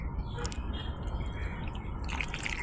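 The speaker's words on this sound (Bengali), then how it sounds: "এরপর একটি পাত্রে দুধ আর গোলাপ জল মিক্স করে আমার গোপালদের মাথায় ঢেলে দিলাম।" Milk mixed with rose water being poured over a small Laddu Gopal idol during a Janmashtami bathing ritual, a steady soft liquid splash and trickle running throughout, close and continuous.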